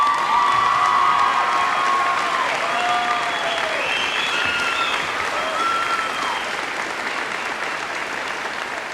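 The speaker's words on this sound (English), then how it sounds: "I'd like to have a round of applause for our outstanding class advisor, Mrs. Dimmick." An audience at a high school graduation applauds loudly and continuously, a dense wash of clapping with cheers and whistles rising through it.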